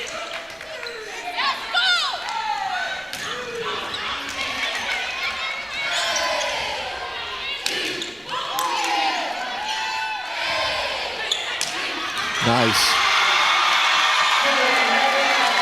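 A crowd at a volleyball match cheers and whoops in a gym, a loud rising swell that builds toward the end, mixed with ball bounces and a commentator talking over it.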